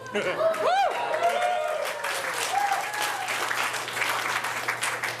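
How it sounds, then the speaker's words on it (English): A crowd at a Green Party climate talk applauds with dense, sustained clapping that fills the whole stretch, with a few whoops and cheers rising above it early on. "And the crowd goes wild."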